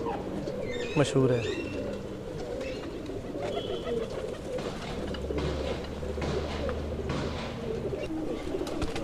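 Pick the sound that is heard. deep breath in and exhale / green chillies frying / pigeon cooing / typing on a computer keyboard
pigeon cooing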